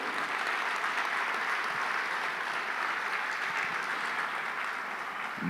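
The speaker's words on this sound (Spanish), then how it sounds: "¿Cuánto le dan un fuerte aplauso al Señor?" Congregation applauding during a church service, a steady sustained wash of clapping hands that fills the room evenly throughout.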